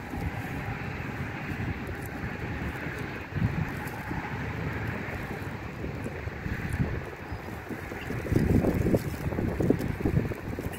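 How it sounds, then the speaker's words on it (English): Gusty outdoor wind on a blustery morning, a steady broadband rush buffeting the microphone, swelling louder in stronger gusts toward the end. "Sorry about the wind. It's really windy this morning."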